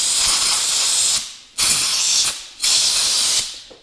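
Compressed air hisses in three strong bursts through a freshly assembled AN fuel line fitting held in a vise, each blast loud and close with short gaps between.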